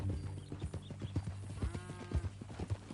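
Horse hooves clip-clop in a steady walking rhythm in a Western video game, close and clear, with a horse snort or whinny partway through and no talking.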